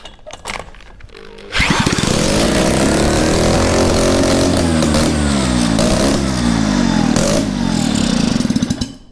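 A Mazda RX-7 rotary engine with a carburetor and choke, struggling for fuel, cranks over briefly, then catches and runs loud and rough with uneven revs for several seconds before cutting out.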